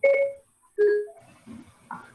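A mobile phone gives a few short electronic beeps and tones, close and clear, with brief gaps between them and no talking over them.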